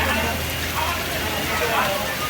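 Heavy torrential rain pours down in a dense, steady hiss without letup, with a voice talking faintly over the downpour.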